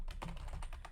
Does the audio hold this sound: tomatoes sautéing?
no